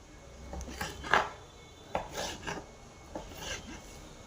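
A knife chops cleanly into a tender green coconut in a home kitchen, giving a few sharp, separate hacks spaced irregularly over a quiet background, close and moderately loud.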